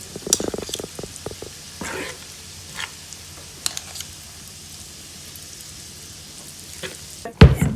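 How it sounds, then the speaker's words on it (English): Drop biscuit dough sizzles quietly in a hot pan, with soft crackling and a few sharp clinks and scrapes of a spoon, ending in a louder knock near the close. "Just get it in there as quick as you can while it's still sizzling."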